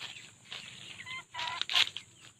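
Several chickens cluck and squawk close by in short, irregular bursts while someone sweeps dry leaves, with one louder, sharper cry toward the end.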